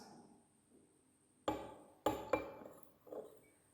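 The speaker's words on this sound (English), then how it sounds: "I will mix a little amount of food color in one glass." A spoon mixes food colouring into water in a glass, giving a few distinct sharp clinks against the glass after a quiet start, close and clear.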